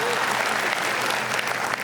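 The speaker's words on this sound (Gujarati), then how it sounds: "the directors of the film Parth Trivedi, Jay Bodas and the amazing Netri Trivedi માટે તાળીઓ થઈ જાય" An audience at a Gujarati comedy talk show applauds the film's directors, dense sustained clapping filling the room for the whole moment.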